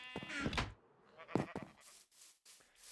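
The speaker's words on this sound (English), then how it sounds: "we've got our wool farm here, all 16 pillars of sheep" Sheep bleat in Minecraft on a wool farm of sixteen sheep-filled pillars, with a few quick, fairly quiet bleats in close succession.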